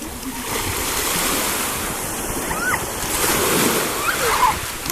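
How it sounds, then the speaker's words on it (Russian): Stormy sea surf breaking on a beach in Sochi, a continuous heavy roar of waves with wind buffeting the microphone, loud and close throughout. "Шторм. Вон какой шторм."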